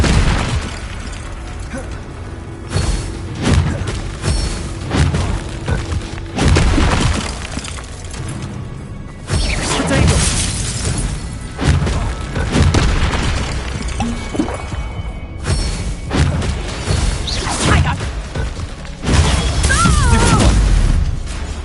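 Confringo blasting curses explode in Hogwarts Legacy combat, with loud, repeated booms and bursts layered over dense game effects and voices throughout.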